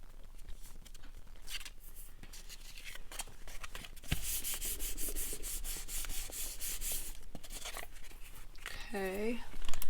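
A glue stick rubbed back and forth across paper for a stacking craft project, a close, scratchy swiping sound in repeated strokes that grows louder midway, with a brief voice near the end.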